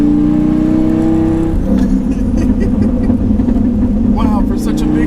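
A Dodge Ram SRT-10 Viper truck's big engine revs loud and close, then settles into a rumbling, gurgling burble as the throttle is released, continuous for several seconds.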